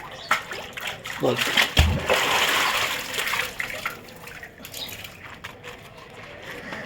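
Water is scooped from a hand-dug well, giving sloshing, splashing pours and dripping that sound close and wet, while someone speaks over part of it.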